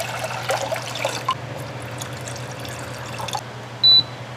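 A steady trickle of water runs into a pot for a few seconds with faint splashing, then stops, followed by a brief high beep.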